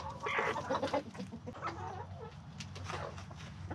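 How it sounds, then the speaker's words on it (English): Young homestead-hatched chickens, the first raised on the farm, cluck in a busy overlapping chorus, loudest early on and settling into softer, scattered calls with a low steady background hum. "these are the very first chickens hatched here at Ivy Acres from eggs laid right here at our homestead"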